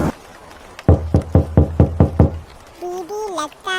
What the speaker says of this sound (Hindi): थोड़ी देर बाद दरवाजे पर दस्तक हुई।